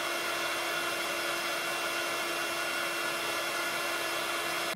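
Heat gun blowing steadily to melt embossing powder, a continuous airy whirring hiss with a faint tonal whine, close and unbroken throughout.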